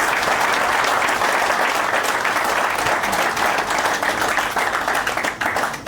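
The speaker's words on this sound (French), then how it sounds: "je vous prie d'applaudir une fois de plus pour l'intervention du professeur Maurice Champi" A large audience applauds after Professor Maurice Kamto's talk at a gathering with Cameroonians, sustained loud clapping that holds steady and then begins to thin out toward the end.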